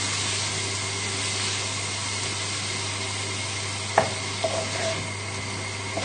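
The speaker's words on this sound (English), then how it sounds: "just using your wooden spoon, as it starts coming up to the heat" Mascarpone gently stirred with a wooden spoon in a warming pan alongside butternut squash pappardelle sauce, a steady low hiss with one sharp knock of the spoon and a few light scrapes afterward.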